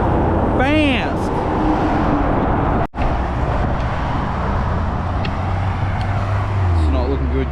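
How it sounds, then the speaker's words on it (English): Fast traffic roars steadily past on Melbourne's M80 Western Ring Road, heard close from the roadside, with a brief chirp early on and a heavier vehicle rumbling by near the end. "Man, these cars are fucking fast."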